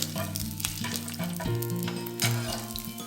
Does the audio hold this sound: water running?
no